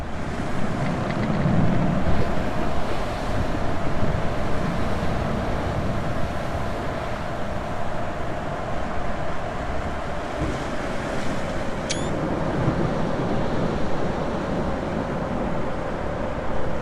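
Ocean surf and wind in the VR game Beyond a Coral Sea, a continuous loud roar of waves with gusting wind buffeting, steady throughout and without speech.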